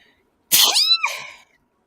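A single sharp, loud sneeze bursts out after a moment of quiet, then trails off.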